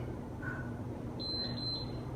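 An electronic workout timer gives a short, thin beep during a freestyle chest, triceps and thigh training session, faint and brief over a low room hum, with no talking.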